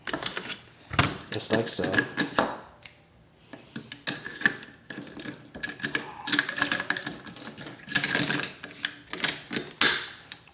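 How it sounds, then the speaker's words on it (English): Rifle bolts being fitted and worked for a forward assist test, with repeated sharp metallic clacks and rattles in irregular bursts, close and fairly loud, mixed with someone talking. "You could just literally go and put the bolts in here"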